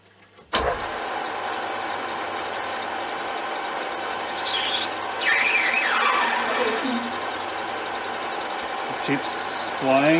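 A metal lathe cuts brass without coolant, giving a steady mechanical whir with a rising and falling whine and a few sharp clicks and scrapes, fairly close and with no voices.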